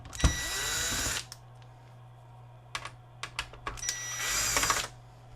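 A power driver backs machine-thread screws out around the perimeter of a Magnavox LCD TV's casing in short whirring bursts, with small clicks and taps between them, close up and fairly loud.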